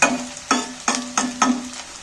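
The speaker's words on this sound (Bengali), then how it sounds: "পেঁয়াজগুলো আমি তেলের মধ্যে নাড়াচাড়া করে পেঁয়াজগুলোকে একটু ভালো করে ভাজতে হবে, লাল লাল করে" Onions stirred in hot oil in a pan: loud, close sizzling punctuated by regular scraping strokes of a spatula about twice a second, with no voices.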